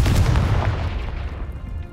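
A Confringo blasting spell explodes in the Hogwarts Legacy video game, a loud, close booming blast that rumbles and decays over about two seconds.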